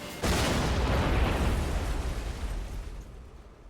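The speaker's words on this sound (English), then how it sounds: "wrecking your truck will lead to an explosion that you will not survive" A truck explodes after a wreck in the trucking game Rig 'n' Roll: a sudden loud boom followed by a long rumbling roar that slowly fades over several seconds, with no talking.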